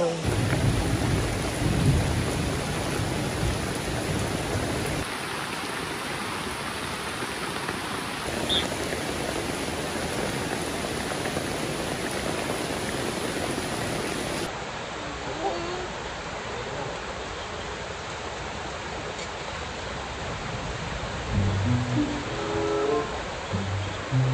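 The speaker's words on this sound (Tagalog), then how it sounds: "Mas malalaki ang patak dito ng ulan" Heavy rain pours steadily on a mountain during a thunderstorm, with thunder rumbling low in the background and people speaking nearby from time to time.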